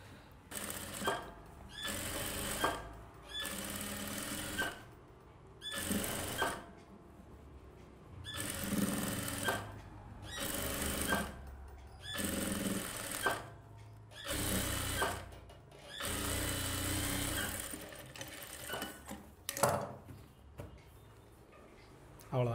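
Sewing machine stitching a silk skirt for a one-year-old baby, running in repeated bursts of a few seconds separated by short pauses, close and steady, with a voice speaking between runs.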